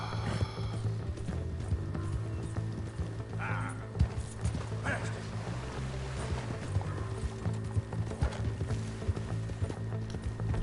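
Horse hooves clip-clop steadily in the Red Dead Redemption 2 western game, a rhythmic trot under a constant low engine-like game drone and soundtrack hum, with no voices.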